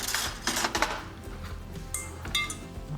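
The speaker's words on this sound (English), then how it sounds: "Just going to grab a spoon out of there." Metal spoon clinking and scraping against a container of meringue mixture in a kitchen, a few light, close clatters and taps, quieter toward the end, no speech.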